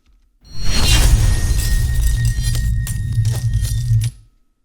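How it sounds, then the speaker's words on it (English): Slow-motion debris impact sound effect: a heavy bass-rich crash followed by crisp, popping pieces of breaking glass scattering for about four seconds before cutting off. "gives it a little bit of a bass sound, and also those kind of crisp glass pieces that really pop"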